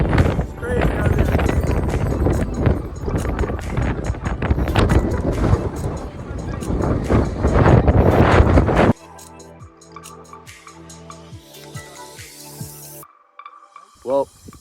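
Strong gusting wind buffets the microphone outdoors in the Blue Mountains as a storm approaches, a loud roaring blast that drops off abruptly, leaving quieter background sounds and a short burst at the end.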